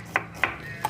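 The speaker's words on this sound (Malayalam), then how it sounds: "ചിക്കന് വേണ്ടിയിട്ട് സവാള മുറിക്കാം" Knife chopping onions fast on a board, three crisp close taps spaced evenly within a second, each a sharp click against a quiet background.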